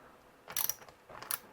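Battery terminal nut on a LiFePO4 cell being loosened with a ratcheting tool, two short bursts of rapid clicking, close and fairly quiet, no talk.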